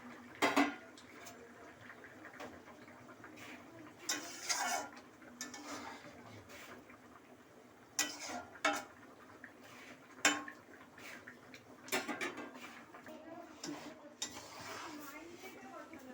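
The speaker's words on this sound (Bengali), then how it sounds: "এবার এই মাছগুলো এর মধ্যে দিয়ে দিলাম" Parshe fish slid into a pan for a home-style tel jhol curry, heard as scattered bursts of metal clatter and scraping between quieter stretches of a faint kitchen background.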